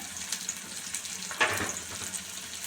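Garlic, ginger and broken green chillies frying in a pan for chutney, a steady soft sizzle with light stirring scrapes and a brief louder crackle midway.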